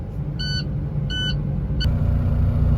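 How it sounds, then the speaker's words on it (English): Electronic warning buzzer in a Class A truck cab sounds in two separate bursts, then a short chirp, over a steady low engine rumble while the vehicle runs and air pressure builds. "you'll continue to hear that buzzer until the air pressure builds back up."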